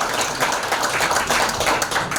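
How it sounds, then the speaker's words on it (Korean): Audience in a lecture room claps together, producing a dense, steady burst of applause heard up close for a couple of seconds. "다시 한번 박수 부탁드리겠습니다"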